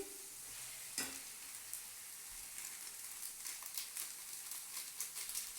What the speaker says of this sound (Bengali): মাঝে মাঝে এটাকে একটু নাড়িয়ে নাড়িয়ে নিচ্ছি